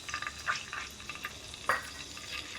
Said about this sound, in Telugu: ఆయిల్ వేడిన తర్వాత శనగపప్పు, మినపప్పు, ఆవాలు, జీలకర్ర, ఎండుమిర్చి వేసుకోవాలండి.